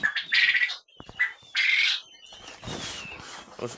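Quails in a coop give loud, repeated squawking calls in several bursts, with brief fluttering and scuffling between cries, close by and with no talk.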